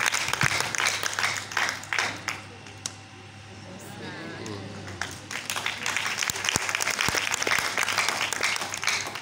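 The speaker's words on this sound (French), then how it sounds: "On va accueillir M. l'adjoint au maire avec des applaudissements bien nourris" Audience applause at a choir concert: a loud burst of clapping from a crowd that fades to a quieter patch partway through, then swells again into sustained close applause.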